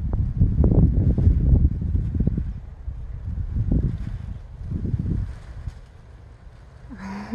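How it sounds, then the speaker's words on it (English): Strong outdoor wind buffets the microphone in heavy low rumbling gusts while giant kites are flown, easing toward the end. "Ooh, big wind."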